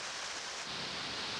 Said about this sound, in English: Torrential rain descends on the mountains,